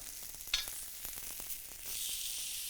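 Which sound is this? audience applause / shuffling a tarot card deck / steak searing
steak searing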